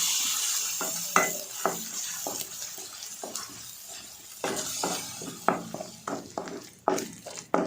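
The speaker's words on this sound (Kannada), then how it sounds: "ಈರುಳ್ಳಿ ಚೆನ್ನಾಗಿ ಫ್ರೈ ಆದಮೇಲೆ ಅಂತ ಮಸಾಲೆ ಹಾಕ್ತಾಯಿದ್ದೀನಿ" Chopped onion and masala frying in oil in a pan for egg curry, stirred with a utensil: repeated sharp scrapes and taps over a soft sizzle, close and fairly quiet, with no talking.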